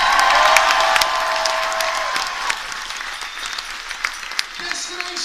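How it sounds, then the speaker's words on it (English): A crowd of cruise ship passengers applauds and cheers the housekeeping crew at a farewell crew show on board, with loud, dense clapping that slowly thins out, and a voice talking over it. "Round of applause for housekeeping."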